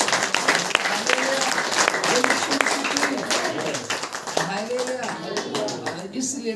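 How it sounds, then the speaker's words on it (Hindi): A church congregation claps hands together during a worship service, producing loud, sustained applause while a voice speaks over it. "ताली बजाकर"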